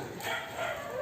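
A dog gives a short, quiet yelp-like bark, heard once at a distance against faint background noise.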